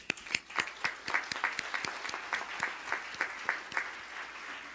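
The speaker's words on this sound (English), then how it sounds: "I think she deserved another round of applause." Audience applause from a seated crowd at a conference event: a dense, sustained clapping with sharp individual claps standing out near the front, continuing evenly for several seconds.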